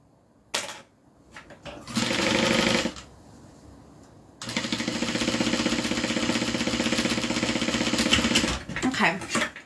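Sewing machine back-stitching the sides of a fabric drawstring dust bag, a short burst of rapid stitching followed by a pause and then a longer steady run, close and loud.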